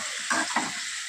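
Prawns cooking in a pan of spinach and potato-aubergine curry, a steady sizzle and frying hiss with two brief stirring scrapes near the start, heard close up and without talk.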